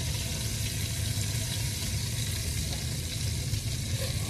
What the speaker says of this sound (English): once you get your ribs nice and browned up on all sides here